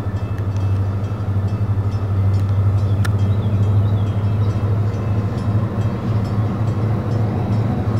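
A coal train rolls past in West Virginia, a loud, steady low rumble of heavy rail cars that fills the whole stretch without a break.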